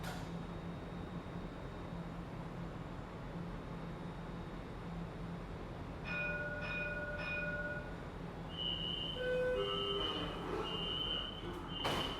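A Dubai tram arrives at a station with a steady rolling rumble that builds slightly, followed by tonal hums and electronic chimes as it pulls in; no talking.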